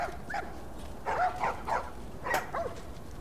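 Dogs in The Last of Us Part 1 give a few short barks and whimpering yelps in bursts over a steady background hum, moderately close and fairly faint.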